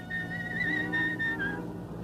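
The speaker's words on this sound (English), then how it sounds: "You've got the most horrible whistle I've ever heard." A person whistles a wavering, off-key tune near the listener, steady for about a second and a half before trailing off, with a low murmur of background room sound underneath.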